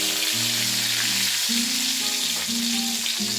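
Mustard seeds, urad dal and garlic sizzle in hot oil for a Kerala masala dosa filling, a steady close crackle with no voices.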